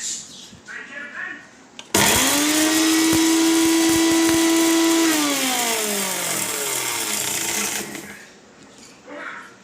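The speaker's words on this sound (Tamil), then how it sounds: "இந்த ஸ்டேஜில் ஒரு வரமிளகா போட்டுக்கலாம் இதையும் போட்டு நல்லா நைஸ் அரைச்சிக்கலாம்" A mixer grinder grinds dried red chilli into a fine paste, a loud steady whirring motor roar that starts abruptly, holds for several seconds, then winds down, with soft talk before and after.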